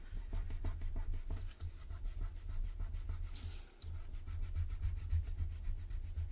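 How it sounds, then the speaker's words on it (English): Paper pressed onto card by hand in a steady, close, dry rubbing with a brief pause midway, no voices. "Give that a good rub to make sure it's properly adhered"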